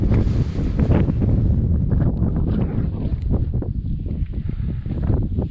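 Strong, steady wind buffets the microphone in an open mountain valley setting, a continuous loud roaring rush with gusty surges and no speech.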